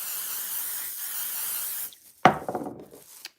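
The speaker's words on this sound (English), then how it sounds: "and then I'm gonna spray this side" An aerosol spray can hisses steadily onto one side of a piece of fabric, a continuous close spray that stops, followed by a few soft handling thuds and rustles.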